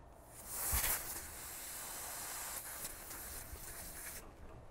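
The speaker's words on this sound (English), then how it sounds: "I will crack the valve there." Refrigerant hisses from a valve being cracked open on a hose line during line purging, a faint airy spray that swells briefly early on, then continues softly and steadily before cutting off near the end.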